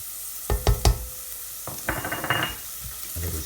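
Garlic puree stirred into softened, translucent onions sizzling in a pan: three sharp knocks of the spoon against the pan, then scraping stirring over a steady low sizzle.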